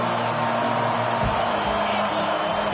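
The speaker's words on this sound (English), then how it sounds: "This crowd trying to make life miserable for this offense." A stadium crowd at a college football game sends up a dense, constant roar, loud and unbroken throughout, with a commentator's voice faintly underneath.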